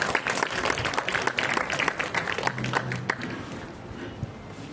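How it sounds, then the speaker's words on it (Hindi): An audience at a JMI board result celebration ceremony breaks into applause, a dense patter of clapping that gradually thins out, with little talk over it. "एक बार जोरदार तालियां।"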